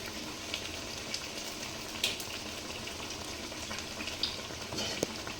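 Meat frying with spices in hot oil in a wok, a steady, dense sizzle throughout with a few faint clinks of stirring.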